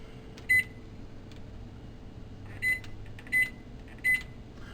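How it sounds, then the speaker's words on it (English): A kitchen oven timer being set, four short electronic beeps in an uneven sequence over a low hum of room noise. "and we're going to set our timer."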